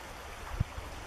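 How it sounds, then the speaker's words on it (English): Clarks Creek flows in a steady, soft rushing wash of water close by, with a couple of faint low knocks and no talking. "This is Clarks Creek right here."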